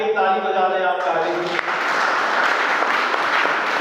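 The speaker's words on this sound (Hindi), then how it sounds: "इनके लिए हम विद्यार्थियों से चाहेंगे एक ताली बजा दें" Students applaud at a college induction programme, steady dense clapping that rises after a voice and fills the rest of the clip.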